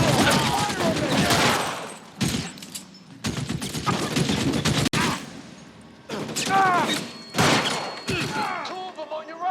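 Gunfire in an L.A. Noire shootout: loud bursts of rapid shots and volleys in several clusters separated by short pauses, with echoing cracks throughout.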